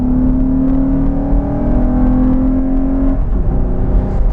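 A 3rd-generation Honda Odyssey minivan's VTEC engine with a short ram intake revs up and holds a steady droning tone before dropping off, deep and throaty, fairly loud with no talking.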